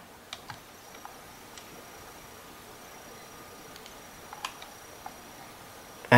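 Sparse, light clicks of typing on a computer keyboard, a few isolated keystrokes over a quiet background.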